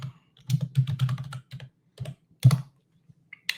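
Keys clatter in quick clusters of taps on a computer keyboard, close and crisp, with short pauses between bursts.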